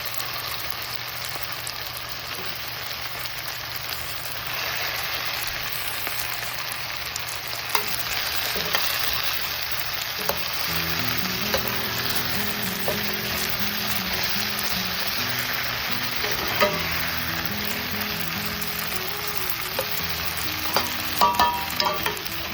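Stuffed baby eggplants fry in hot oil with onions and tomatoes, a steady sizzle running throughout, with stirring scrapes and clinks of a spoon against the pan growing busier in the second half. No one speaks.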